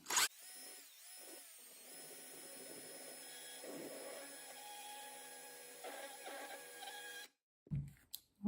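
A rotary tool fitted with a rotary file grinds into a plastic lawn mower gas cap, a steady high-pitched whine with intermittent rough cutting bursts, then stops abruptly near the end with a few quiet knocks.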